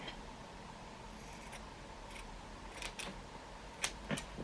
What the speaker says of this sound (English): I'm going to just give it a snip right there